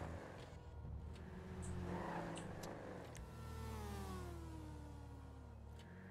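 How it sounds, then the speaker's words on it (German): Dodge Charger police car in a video game, its engine revving and rising in pitch with tire squeals and skidding, loud and continuous throughout. "Ja, der Dodge ist ein schönes Fahrzeug."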